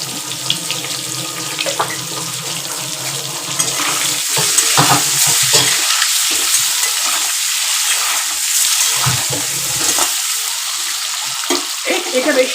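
Eggs frying in a pan of oil, a loud, steady, close hiss and sizzle that runs unbroken throughout with no talk over it.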